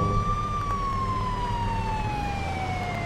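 A US fire truck siren sounds in the Farming Simulator 22 video game, one long, clear, slowly falling electronic wail that rings loud and steady throughout.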